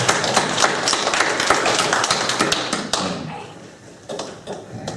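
A congregation applauding during a year-end Sunday service at a Lutheran church, with many hands clapping in a busy patter that thins out midway and then briefly picks up again.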